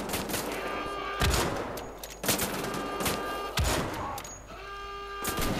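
Dual-wielded guns blast in Wolfenstein: The Old Blood, a dense, loud run of gunfire with heavy, booming bursts about every second, mixed with game ambience and no speech.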